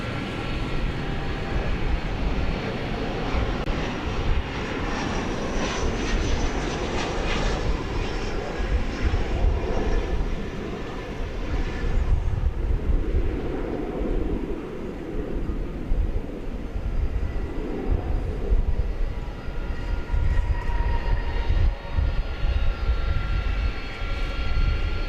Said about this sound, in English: here comes the A300 our way